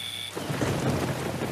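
Heavy rain pours down while thunder rumbles deep and loud, a continuous storm wash that swells in after a brief quiet opening and lasts about a second and a half.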